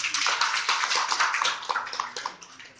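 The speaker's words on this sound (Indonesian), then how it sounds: "Tepuk tangan untuk Bapak Oda." Audience clapping for a presenter at a workshop, a steady dense patter of many hands sustained throughout, moderately loud with no voices.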